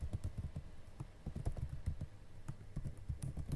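Keys on a computer keyboard are typed in an irregular patter of soft clicks and taps, close and quiet over a low background hum.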